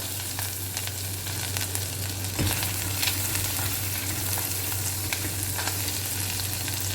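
Finely chopped onion fries in a pan for pumpkin soup, a constant moderate sizzle with scattered crackles and occasional stirring clinks, no talking, against a low steady hum.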